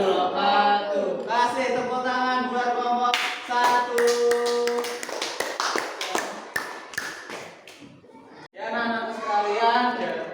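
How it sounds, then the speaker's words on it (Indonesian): An audience in a classroom teaching session claps for the first student group, a burst of scattered, uneven applause lasting several seconds, with a voice speaking before and after it. "Kasih tepuk tangan buat kelompok 1."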